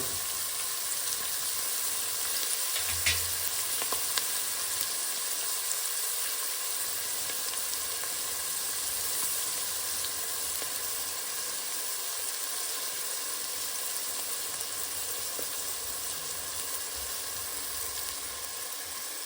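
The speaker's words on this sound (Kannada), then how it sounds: "ಈರುಳ್ಳಿ ಚೆನ್ನಾಗಿ ಫ್ರೈ ಆಗಬೇಕು" Onions fry in a pan for chicken gravy, giving a steady, even sizzle that holds close and constant throughout with no talking.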